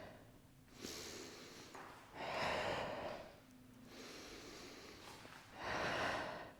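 Deep, audible breaths during a Pilates abs and glutes workout, alternating slow inhalations and forceful exhalations in a steady rhythm, close and fairly loud with no talking.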